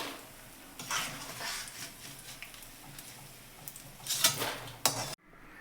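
Roasted edible gum (gond) is scooped out of a pan while making winter laddoos, with soft metallic scraping and clinking of a spoon against the pan, a few sharper clanks near the end, then sudden quiet.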